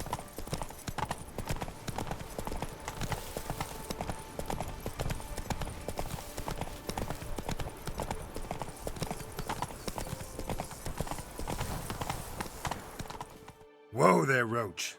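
Horse hooves of Roach in The Witcher 3 clop in a steady rapid galloping rhythm throughout, loud and close, with game music and dialogue underneath, ending in a brief pause and a whinny-like voice near the end.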